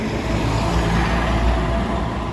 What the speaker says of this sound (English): there's a truck about to try and pass.